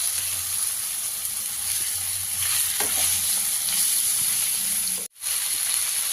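Country chicken fries with turmeric in a pan, giving a steady, close sizzling hiss with faint stirring, broken by a brief cut to silence near the end before the sizzle resumes.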